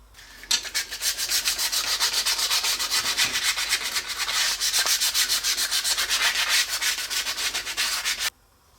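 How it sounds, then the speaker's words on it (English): Maple wood tongs are sanded by hand in a steady, close, scratchy back-and-forth rhythm that runs unbroken for about eight seconds, then stops abruptly. No voices. "So we're going to give this a good sanding all over."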